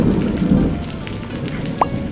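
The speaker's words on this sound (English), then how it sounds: "Stormy." A thunderstorm with steady rain hissing down and low thunder rumbling through, loud and close, with no voices.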